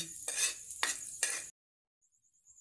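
Onion being stirred in a cooking pan for pansit-pansitan, three close scraping strokes with a faint sizzle under them, then near silence.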